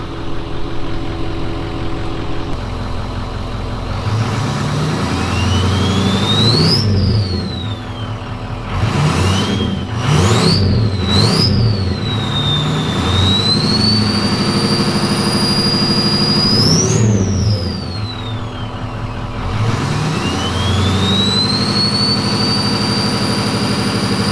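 A Ford 6.0 Powerstroke diesel engine runs steadily and a little smoky, with a loud, continuous rumble that holds throughout, rising in a few brief revs and whines before settling back to idle.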